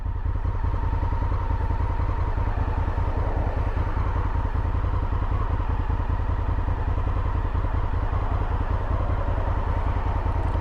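Honda Africa Twin motorcycle underway on a ride, a constant close, loud engine thrum with rapid low pulsing and wind buffeting throughout.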